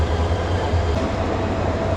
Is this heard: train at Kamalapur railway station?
yes